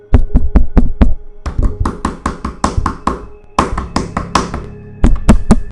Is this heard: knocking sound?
yes